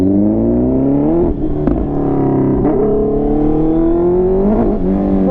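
A Honda CBR650R motorcycle, restricted to 47 horsepower, revs loudly while riding, its engine note rising in sustained pulls with brief dips at the gear changes and no talk.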